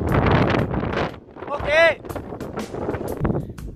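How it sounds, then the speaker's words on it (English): Strong wind on a hilltop in the Cheviot hills, Northumberland, buffets the microphone in loud gusty rumbles, with brief speech and a short high whine partway through. "it's really windy up here"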